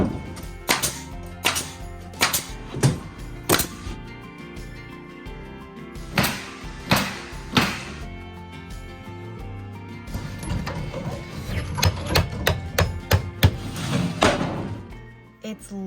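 Sharp hammer blows driving nails on a house build from scratch, coming in irregular bursts of strikes, some clustered quickly, with speech-like activity mixed between the impacts.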